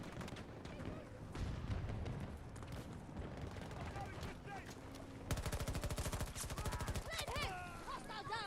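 Bursts of automatic gunfire and weapon shots from the Battlefield 2042 video game, with dense, rapid rattling from about the five-second mark, mixed with game effects and a voice talking over the action.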